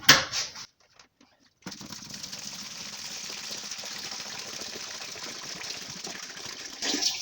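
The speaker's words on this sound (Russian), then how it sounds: "Наливаем водички" Water gushes steadily into a homemade shop vacuum with a water filter, a continuous pouring rush after a brief pause, close to the microphone.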